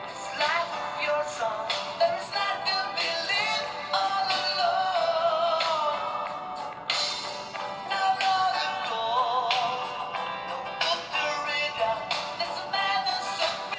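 Hair metal song played through Winamp on newly soldered laptop speakers of a Satellite 4000CDT, tinny and thin with no low end, guitars and drums running continuously at moderate volume.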